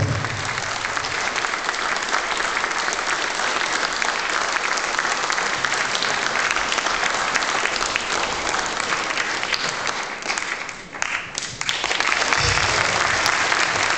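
A painting auction audience gives long, loud, dense applause that holds steady throughout and dips briefly near the end before swelling again.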